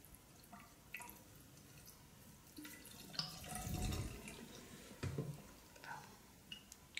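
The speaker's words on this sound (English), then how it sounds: "I might use some running water" Water from a tap runs and drips into a sink during a haircut, with soft, uneven splashes and a brief louder gush near the middle, heard fairly close and quiet.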